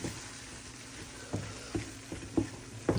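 Dried fish mash fries in a wok under a quiet continuous sizzle. It is stirred with several spaced scraping knocks that grow slightly louder toward the end.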